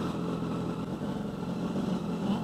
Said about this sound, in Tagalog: ang tunog ng inline 3 ay meron siyang kakaibang character